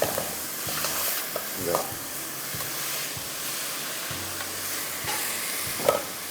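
Green beans fry in a pan for crispy green beans, a steady sizzle running throughout with a few scraping stirs and one sharp clink near the end; faint background tones sit underneath.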